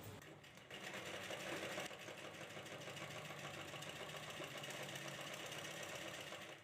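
A sewing machine runs steadily, stitching blouse lining pieces together for a princess-cut blouse; a continuous close, fairly faint motor whir with a brief louder burst early on.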